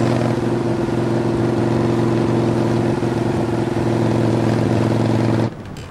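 A moped engine runs at a steady, loud drone with a constant low hum while riding over a pond, holding an even pitch until it cuts off abruptly near the end.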